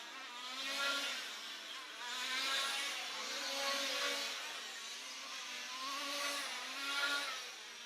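Large-scale RC touring cars racing at a European championship final, high-pitched engine whines swelling and fading as cars pass in waves, steady and moderately distant throughout.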